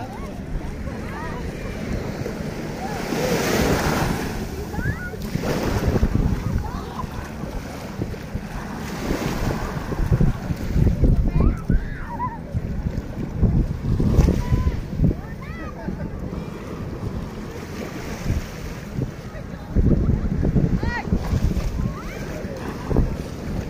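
Waves wash and crash onto a crowded beach where people swim and fly kites, with gusty wind buffeting the microphone and surf surging in repeated swells; voices murmur faintly underneath.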